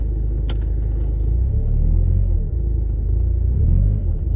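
An MG ZT diesel car, just fitted with a new clutch, is put into gear and rolls forward, giving a low steady engine rumble up close with a brief metallic click near the start.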